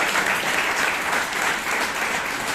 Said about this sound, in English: please give Hannah a big round of applause